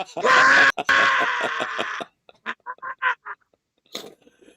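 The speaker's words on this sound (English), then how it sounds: "This is the shot they get, is her screaming." A woman lets out a loud, sustained scream on a film set after a rat drops at her feet, lasting about two seconds and then breaking off, followed by a few short, quieter voiced sounds.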